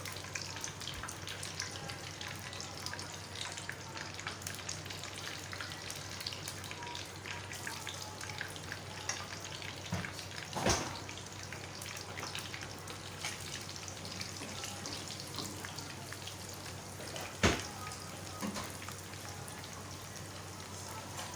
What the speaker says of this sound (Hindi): ऑयल हमारा गर्म हो गया अच्छी तरह से। चिप्स डालना शुरू करें।